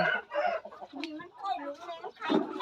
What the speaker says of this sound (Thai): มีไก่ด้วยเหรอลูกโอ้ยไก่สวยมากเลยอะ